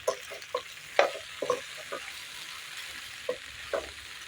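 Cooked pasta is stirred in a frying pan under a soft steady sizzle, with a series of light scraping and tapping knocks from the utensil, close and fairly quiet.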